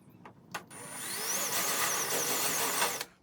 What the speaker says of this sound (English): going to take my mark and just drill it open.